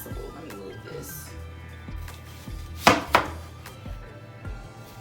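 A kitchen knife slices a huge onion in half on a cutting board, giving two quick, crisp knocks in a row against a low, steady room background.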